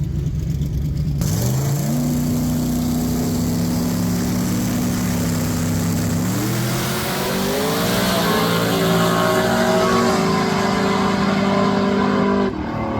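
Small-tire drag racing cars in the finals: engines drone steadily, then climb in pitch as they accelerate down the strip, a loud and continuous roar with no talk.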